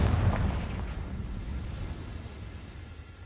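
The Confringo blasting spell explodes in the Hogwarts Legacy game, a single heavy boom with a deep low-end punch that rumbles away and fades over a few seconds.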